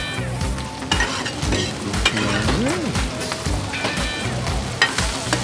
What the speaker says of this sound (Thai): โอ้โหหอยทอดกระทะใหญ่เลย